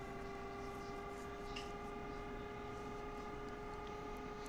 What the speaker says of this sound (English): She's managing to drive the train without even putting it into acceleration.